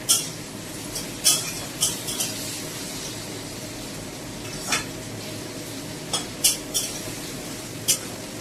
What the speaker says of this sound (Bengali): এই যে আদা রসুনগুলো ছাড়াতে বসে পড়েছি